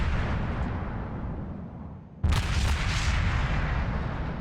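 A salvo from the main guns of a Mogami cruiser in the naval combat game World of Warships, heard as one sudden broadband blast about halfway through, rising out of a steady low rumble of ambient battle noise.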